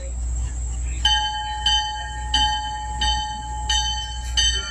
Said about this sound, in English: Oh, here comes the locomotive now.